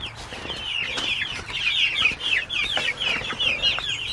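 Barred Rock chicks, fully feathered and out on fresh grass, cluck and chirp steadily in a busy, fairly close run of short calls with no talking.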